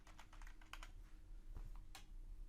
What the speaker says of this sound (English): And just select it and start typing.